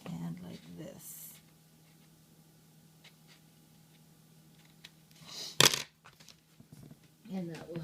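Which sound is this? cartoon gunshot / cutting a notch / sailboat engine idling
cutting a notch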